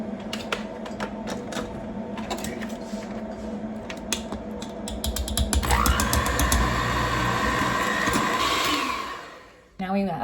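Electric mixer beating cake batter made with oil and vanilla, a continuous close motor whir with clattering against the bowl that grows louder and busier partway through, then cuts off near the end.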